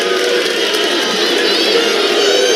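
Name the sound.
basketball arena crowd cheering during defense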